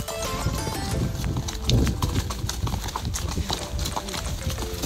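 Horse hooves clip-clop steadily on the ground during a Christmas trail ride with companions, a continuous rhythmic beat close by, mixed with rustling and people talking.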